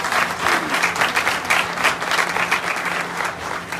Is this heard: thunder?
no